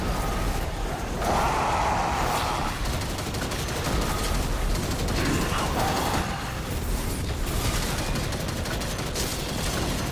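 Gunfire during a Destiny 2 fight, with dense, continuous combat noise and overlapping shots and bursts that stay loud throughout.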